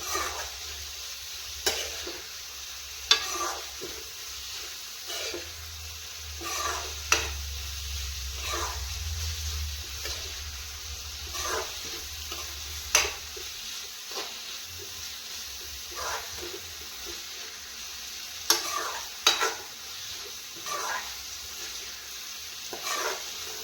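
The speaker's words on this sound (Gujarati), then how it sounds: "હવે તેને આપણે મિક્સ કરી દઈશું। 5-5 મિનિટે હલાવતા રહેવું એટલે શાક ચોટી ના જાય।" Green onion curry cooks in a pan with a soft, steady sizzle, broken by scattered sharp taps and scrapes from stirring and a low rumble partway through.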